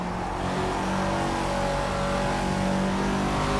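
A Caterham race car in the Project Cars racing game holds a steady, loud engine roar at full throttle that continues without a break from start to finish.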